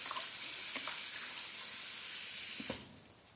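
Warm water pours steadily into a pot or container while Lao steamed bamboo shoots are prepared, a continuous close splashing rush that stops abruptly near the end.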